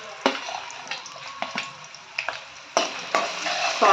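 Garlic and ginger sauté in a hot pan for mushroom fried rice. Steady sizzling and frying runs throughout, broken by sharp bursts as the ingredients are stirred and tossed.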